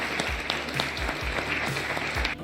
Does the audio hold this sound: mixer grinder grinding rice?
no